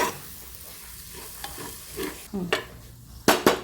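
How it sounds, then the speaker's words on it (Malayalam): Chopped tomatoes sauté in a hot pan with a steady sizzle. A few scraping stirs break through near the end, and no one speaks. "തക്കാളി ഇട്ട് നല്ലതായിട്ട് നമുക്ക് വഴറ്റാം."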